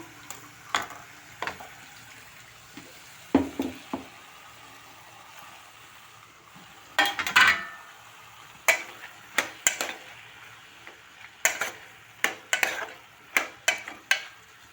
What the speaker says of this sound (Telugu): బీరకాయలు కూడా మధ్యనే కొంచెం ఆయిల్లో టమాటాలు కూడా వేసేస్తా